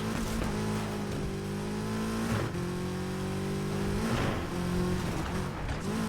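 Aston Martin DB11 Volante engine in NFS Heat revving through repeated rising pulls with brief dips between gear changes, steady and close, with no talk over it.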